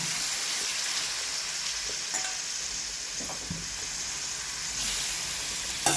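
Tomato pieces fry in a little oil with a continuous bright sizzle and a few faint stirring clicks, all close and steady, with no voices.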